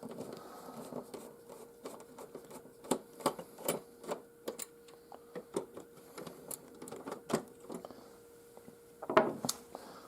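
Screwdriver working four screws out of a plate, producing a close series of small irregular clicks and ratcheting taps with brief pauses, fairly quiet in a still room.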